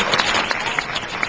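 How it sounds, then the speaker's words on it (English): Enthusiastic applause from a cinema audience at the New Beverly theater, dense close clapping with scattered sharper claps popping out, loud and continuous for its short length. "So give yourself a round of applause for that."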